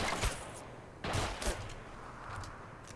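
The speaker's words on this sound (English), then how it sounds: "Alright, so now his tank's shooting into those, giant cargo boxes." Tank cannon and small-arms fire in the World War II strategy game Men of War: Assault Squad 2 come as bursts of overlapping blasts, a few heavy booming reports among a steady crackling fusillade.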